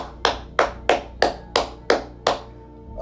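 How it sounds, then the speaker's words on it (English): Seven sharp, evenly spaced hand claps from a single person, close and loud, each with a brief ringing decay, followed by a short pause. "Clap it up again"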